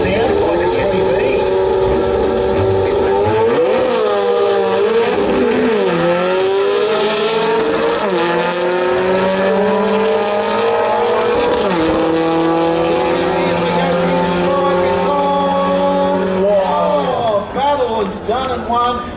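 Drag racing car at a strip, its engine sounding like a 20B rotary, screams in a high buzzing wail through several rising gear pulls, loud and sustained, with a commentator talking over it.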